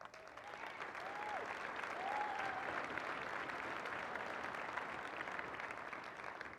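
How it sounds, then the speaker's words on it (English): Audience at a 2018 State of the City address applauding in a steady, fairly distant wash of clapping that stays even throughout, with a few faint voices calling out over it. "Notice Air Force got applause, Navy didn't."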